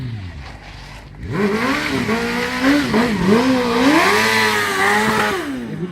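A drifting car with its rear tyre squealing loudly and continuously, the screech wavering in pitch over a roaring engine for several seconds after a quieter start.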